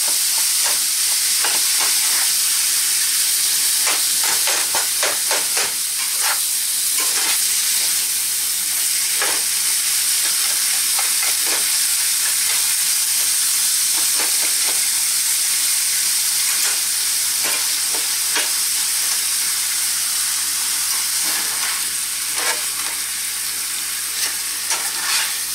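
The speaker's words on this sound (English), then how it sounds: "Just keep stirring until it's brown." Ground beef sizzles and fries steadily in a pan, with repeated scraping and clicking strokes of a utensil as it is stirred, loud and close with no talking.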